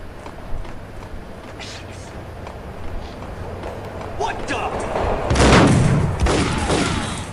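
Gunfire in the video game Max Payne, including an enemy's shotgun, with a loud booming blast near the end over steady background game noise and speech.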